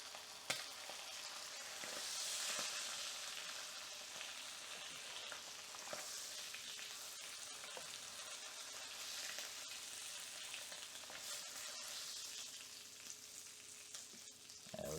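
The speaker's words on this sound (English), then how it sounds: "Keep frying until they're done and golden color." Steady, close sizzling of small fish (vendace) frying in hot oil in a pan, crackling continuously with occasional small pops and scraping stirs, no voices.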